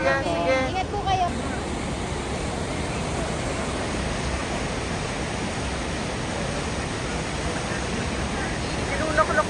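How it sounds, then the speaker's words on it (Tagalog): Water surging forcefully through a hole worn in the rock at a natural bridge in British Columbia, a loud continuous rushing roar with a brief stretch of talk at the start. "Malakas ang tubig kasi nabutas niya yung bato."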